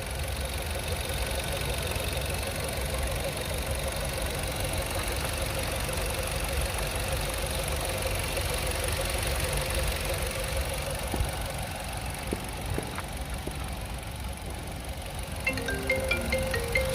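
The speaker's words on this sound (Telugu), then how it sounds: "కార్ అయితే మాత్రం సౌండ్ అయితే మనకి దగ్గర పెట్టి మరి చూపిస్తాను చూడండి" A 2023 Maruti Brezza ZXI petrol car idles close by, a steady even engine hum with light ticking vibration that holds throughout, with a few faint clicks near the end.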